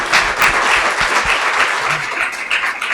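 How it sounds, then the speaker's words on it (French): Steady applause from a large audience, dense clapping sustained throughout with no pauses. "aidez-moi à l'applaudir"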